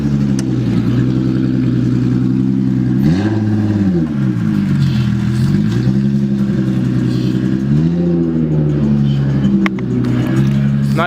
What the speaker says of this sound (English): the only reason why it's that obnoxiously loud is because his exhaust is literally on the ground right here